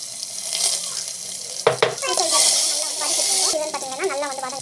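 Garlic, mustard seeds and lentils sizzle in hot oil in a home kitchen pan, a steady close hiss with crackles while a voice talks over it.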